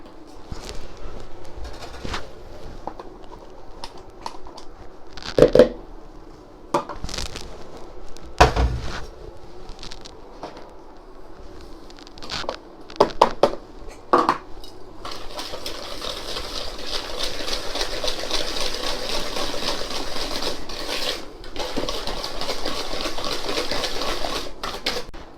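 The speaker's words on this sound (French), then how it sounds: "Je vais maintenant blanchir les jaunes d'œufs avec le sucre semoule." Egg yolks being whisked with caster sugar in a bowl for a vanilla-raspberry dessert, starting with clunks and knocks of bowl and utensils, then a steady rapid whisking rattle through the second half.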